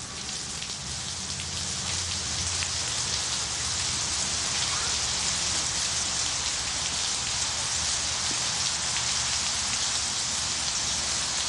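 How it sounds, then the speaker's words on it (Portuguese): Steady rain falls and patters densely on surfaces, a constant close hiss with no voices. "cairão sob a forma de chuva, precipitações de neve ou granizo"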